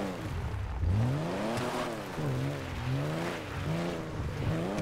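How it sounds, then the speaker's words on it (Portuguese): A Chevette car in GTA 5 drives past, its engine note rising and falling with revs in a steady, moderately loud drone, without talk. "Chevetinho passando aqui de boa."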